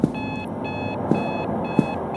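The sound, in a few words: alarm clock ringing in video game Photomaly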